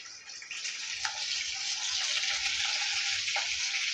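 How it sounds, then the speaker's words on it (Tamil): Steady hissing sizzle of garlic and ginger sautéing in hot oil, close and continuous, with a couple of faint clinks from a utensil. "இப்போ அதை சேர்த்து நல்லா வதக்கி எடுத்துக்கலாம் கொஞ்சம்"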